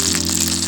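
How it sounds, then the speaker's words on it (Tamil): Fish fingers frying in hot oil, a dense, even sizzle with crackling pops, heard close and continuous over a faint low hum. "ஃபிஷ் ஃபிங்கர் நல்லா இந்த அளவுக்கு ஃப்ரை ஆனதும் நம்ம எடுத்துடலாம்"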